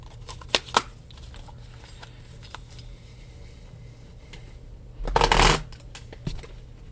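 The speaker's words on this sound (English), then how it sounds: "Just giving my deck a quick shuffle here." A few soft card taps, then a quick, loud riffling burst as a tarot deck is shuffled up close.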